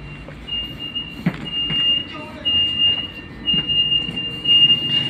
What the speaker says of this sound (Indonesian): saat ini saya sudah berada di dalam kereta KLIA Transit